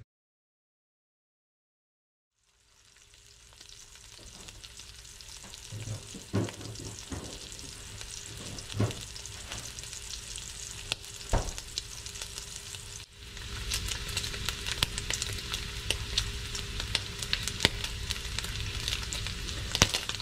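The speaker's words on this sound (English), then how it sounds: "you start by cooking some bacon" Bacon frying in a cast iron pan, a steady crackling sizzle that starts after a brief silence and runs on with popping spatters, swelling louder in the second half, with no talking.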